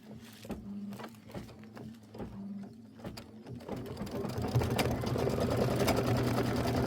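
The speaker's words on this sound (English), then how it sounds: "stitch the star fill and decorative outline" An embroidery sewing machine stitches a star fill on a quilt with Mylar, making a fast, rhythmic mechanical clatter that grows busier and louder partway through.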